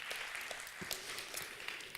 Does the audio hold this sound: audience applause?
yes